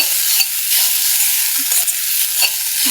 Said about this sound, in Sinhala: මේ කලවම් කර කර මේක මලව ගන්නවා